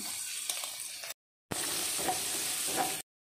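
Garlic sizzling in a hot pan with a little meat, a steady crackling hiss that breaks off in a short silent gap and then resumes just as strongly, with no talking.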